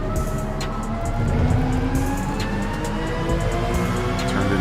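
A race car in GT Sport during a practice lobby session gives a steady, loud engine drone with tonal whine as it brakes hard and turns in, continuous and close throughout.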